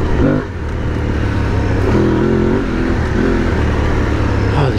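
An Aprilia Tuareg 660 adventure motorcycle engine accelerates as the throttle rolls on, a loud, steady droning intake and exhaust note that climbs in pitch in stepped surges under heavy wind rush.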